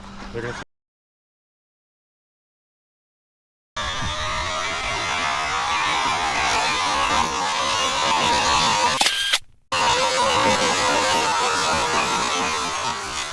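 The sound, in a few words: electric RC desert trucks driving on dirt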